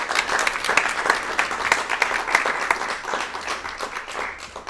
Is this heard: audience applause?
yes